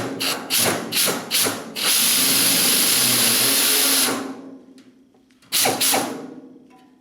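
A drill cuts out spot welds in the rear sheet metal of a Mustang Fastback, starting with a few short bursts and then a long steady grinding run that stops, followed by one more short burst.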